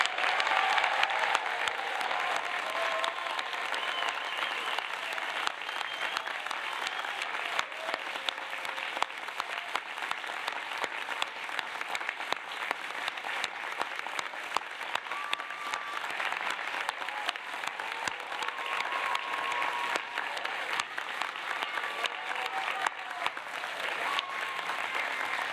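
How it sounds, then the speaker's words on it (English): A large audience at a university health faculty graduation ceremony applauds. The dense, even clapping is steady and sustained for the whole stretch and heard from a distance in a big hall, with no voices over it. "join me in an enthusiastic and thunderous applause"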